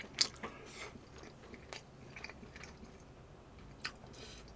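Seasoned pork ribs, braised until somewhat tough, chewed close to the mic, giving soft wet squishes with a few crisp biting crunches at an irregular pace and no talking.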